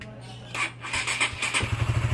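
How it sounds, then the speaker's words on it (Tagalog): A liquid-cooled motorcycle engine is push-started: a short whirring crank, then the engine catches and settles into a loud, pulsing idle up close, with a brief squeal along the way. "Yan, gumagana yung push start. Napakalakas."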